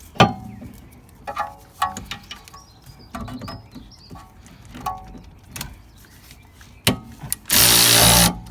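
A ratchet wrench loosening a 12mm bolt on a Honda Civic Type R handbrake cable bracket, with clicking turns and metallic knocks spaced irregularly, ending in a short loud buzzing burst, close up with no talk.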